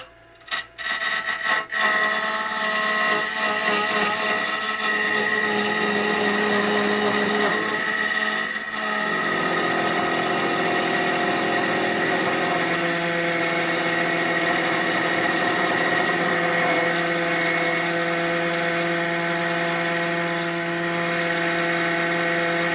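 A Bauer 14 x 20 EVS wood lathe spins a segmented, out-of-round wood blank at about 1100 RPM, producing a loud, continuous whirring roar with rattling, rubbing overtones that shift slightly partway through.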